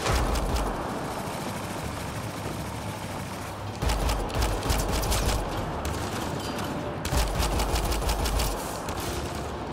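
Gunfire in the Mass Effect Andromeda video game, rapid bursts of shots in three long volleys over a low mechanical rumble, loud and close, with no talk.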